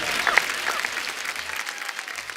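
A studio audience on a Hindi comedy talk show claps in a brief burst that swells quickly and tapers off, with a few whoops over the applause.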